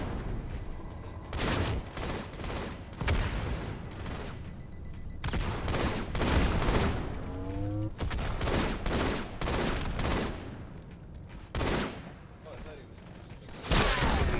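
Gunfire in Halo 2 Anniversary ranked Slayer, a dense run of sharp repeated shots and bursts with occasional booms, loud and close with no talk over it.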